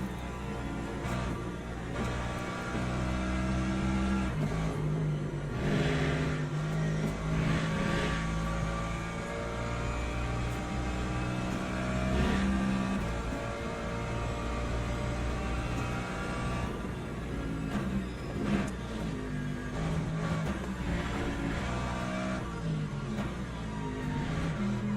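A Ferrari race car laps the Portimao circuit in Le Mans Ultimate, its engine a steady droning roar that climbs and falls with gear changes for the whole stretch, with no voices over it.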